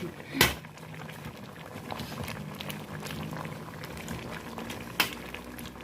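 Herbal water with ginger, galangal, lemongrass, fingerroot and kaffir lime leaves bubbles at a steady boil, with two sharp knocks at the start and near the end.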